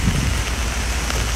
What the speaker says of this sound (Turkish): Size yağmur yağan Üsküdar'ı göstermek istiyorum.